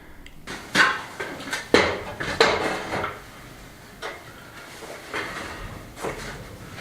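Fresh plaster or mortar being mixed by hand in a bucket during an old stone farmhouse restoration: repeated scraping, knocking strokes in an irregular rhythm, loud and close at first, then easing off, with no talking.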